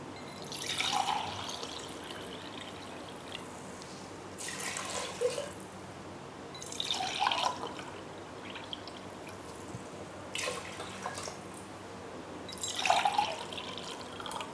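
Water pours in several short bursts a few seconds apart, splashing into a metal pressure cooker against a quiet background.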